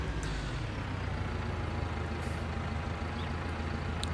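A Stara ST Max 105 tractor pulls a header trailer in Farming Simulator 19, its engine giving a constant, close, low diesel drone with no gaps or talk.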